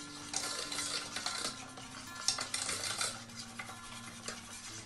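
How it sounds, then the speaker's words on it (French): Cream with sugar and agar-agar is stirred in a pot for a vegan cheesecake, with soft scraping swirls and light clinks of a utensil against the pot, irregular and fairly quiet, no speech. "Je vais mélanger ma crème. Avec donc mon sucre et mon agar-agar."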